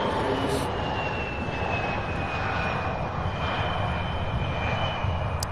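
An Embraer E175 jet arriving from Boston at Louisville International Airport, its engine roar steady and close for several seconds with a faint whine riding on top, while a voice talks faintly in the background.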